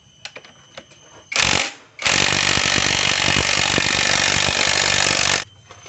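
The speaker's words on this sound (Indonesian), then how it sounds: "Jadi lebih mudahnya ini kita buka baut pegangan mesinnya yang bagian belakang." Power tool loosening the rear engine mount bolt on a motorcycle frame: a few faint clicks, a short loud whirring burst, then a sustained loud buzzing run of about three seconds before stopping.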